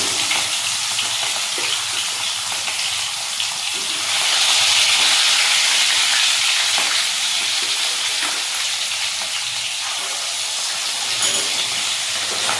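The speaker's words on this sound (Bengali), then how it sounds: "মাছ ভাজা।" Fish pieces frying in a pan make a steady, loud sizzle that swells briefly midway, with no voices over it.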